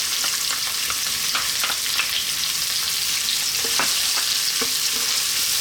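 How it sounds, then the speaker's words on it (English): Finely chopped onion frying over high gas heat in oil for Bombay potato curry, a loud, dense, steady sizzle with occasional stirring knocks, close up. "next up we're going to drop in our onion"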